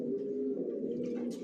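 Racing pigeons coo in a loft, a soft, low, continuous murmur of cooing throughout, fairly quiet and close, with no talking.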